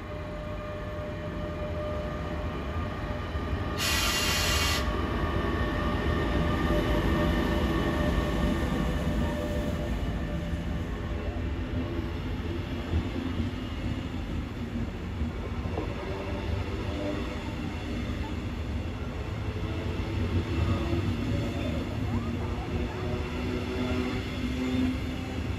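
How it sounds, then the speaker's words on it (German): Regional train hauled by a class 146 electric locomotive pulls out of Gießen station, a steady loud rumble of wheels and cars rolling past for the whole stretch, with a short high squeal early on. "So wie es aussieht, fährt dieser Zug in die Abstellung."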